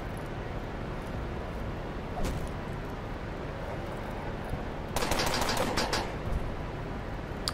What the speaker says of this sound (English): They're just shooting me, then?